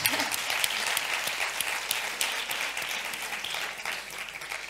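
Applause from an audience at a talk on women leading media outlets, a dense, even round of clapping at moderate loudness that continues throughout with slight swells.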